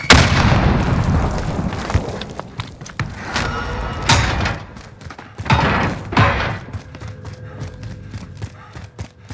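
Grenade explosions in the video game Call of Duty: Modern Warfare: several loud, heavy booms and thuds, the biggest bursts around the middle, mixed with sharp crackling gunfire and rumbling debris.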